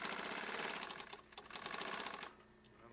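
A sewing machine stitches a gusset seam on the inside of a teepee in a rapid, steady mechanical chatter, then stops for the last half-second.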